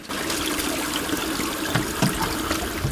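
Cold water from a natural spring in the Dubosari neighbourhood trickles and splashes steadily up close, a continuous bright babbling flow with no voices.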